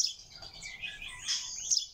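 Chaffinch chicks chirp in a busy stream of thin, high tweets, close by and fairly loud, with overlapping calls throughout and no talking.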